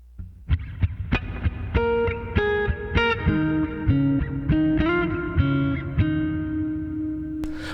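A solo electric guitar plays a slow melodic phrase of plucked notes, each ringing out with a lush reverb tail, no other instruments.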